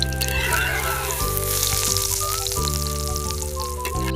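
Tuna fish pieces frying in a miniature pan, with a steady close sizzle and crackle over a constant low hum and faint tonal background, and no talking.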